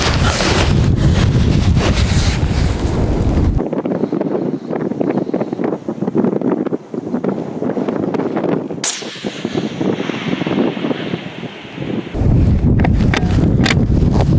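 Wind at an outdoor shooting range roars across the microphone in heavy, buffeting gusts, easing briefly in the middle before surging back loud and rough, with no voices.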